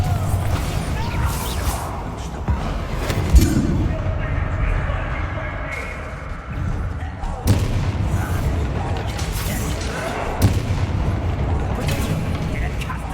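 Fiery Confringo spell blasts in a video game, repeated deep booms and crashing explosions layered with rumble and debris, loud and close, while a voice talks over the chaos.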